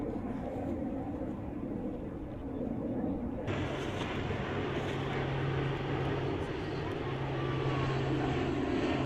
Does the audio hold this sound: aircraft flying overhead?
yes